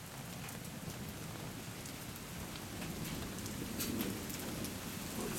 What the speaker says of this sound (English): That was a serious lightning bolt.